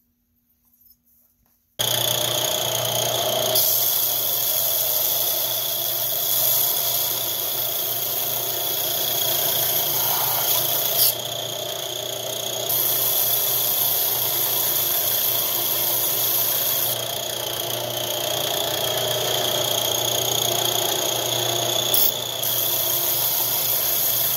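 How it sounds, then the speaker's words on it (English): A belt grinder running an 80 grit belt strips paint and rust from a hawksbill knife blank, a continuous loud whirring grind that starts abruptly after a brief silence and holds steady throughout. "I've got an 80 grit belt on here right now. That's what I'm going to use. Get all the paint off of it, the rust"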